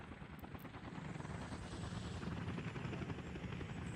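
Steady helicopter rotor chop and engine whir from the Workers & Resources: Soviet Republic game, loud and continuous with no voices.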